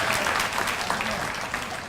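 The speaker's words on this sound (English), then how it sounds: "Give him a round of applause." A room full of people applauds at a speech, a dense steady wash of clapping filling the brief moment.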